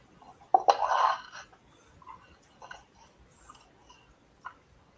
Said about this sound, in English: that is the sound of a new jar of peanut butter being opened